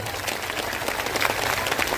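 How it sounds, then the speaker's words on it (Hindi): A crowd at a large Hindu religious gathering in Dehradun claps dense, continuous applause of thanks, loud and close. "एक बार इनको ताली बजाकर धन्यवाद जरूर दो"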